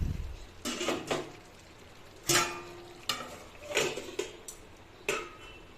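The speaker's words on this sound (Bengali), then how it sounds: "আবার একটু নাড়িয়ে চাড়িয়ে দিলাম, আবার একটু ঢাকা দিয়ে দিব।" A spoon stirs chicken and potato curry in a pot, giving several sharp clinks and scrapes spaced irregularly, followed by the lid clattering on; close and fairly quiet, with no voices.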